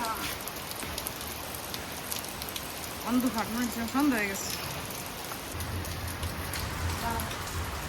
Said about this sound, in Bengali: কি বৃষ্টি শুরু হয়েছে রে বাবা,